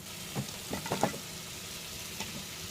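Fried chilli chicken stirred through boiling sauce over a high flame: a soft sizzle underneath a few quick scraping and clattering stirring strokes bunched in the first second, then a steadier simmer.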